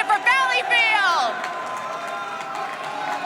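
A Rocket League world championship crowd in an arena roars and claps, a broad wash of cheering and applause that swells at the start and then settles into sustained clapping, with a voice briefly over it early on.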